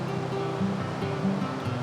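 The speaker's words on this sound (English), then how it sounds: "Okay, so we're at our waterfall number 2 on our way back up through." A woodland waterfall on a trail near Pont Melin Fach rushes steadily at a moderate distance, a continuous soft watery roar with faint low tones and no talk over it.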